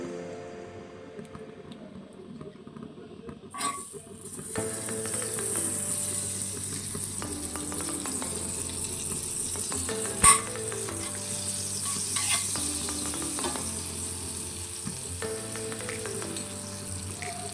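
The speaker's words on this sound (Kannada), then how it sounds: "ಇವಾಗ ವೈಟ್ ಸಾಸ್ ರೆಡಿ ಮಾಡ್ಕೊಳ್ಳೋದಕ್ಕೆ ಬಟರ್ ಸೇರಿಸ್ಕೊಳ್ಳೋಣ" Butter sizzling and frying in a hot pan while making white sauce for pasta, a steady crackling hiss that starts a few seconds in and continues with occasional stirring clinks, no talking.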